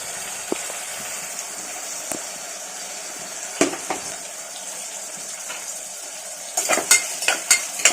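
Garlic and onions fry in hot oil for an Andhra-style mutton curry, giving a steady close sizzling hiss with a few light stirs, then a burst of utensil clinks and scrapes near the end.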